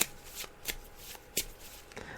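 Playing cards are shuffled by hand for a psychic reading in a quiet room, with several soft, riffling bursts spaced irregularly over about two seconds, close and fairly faint.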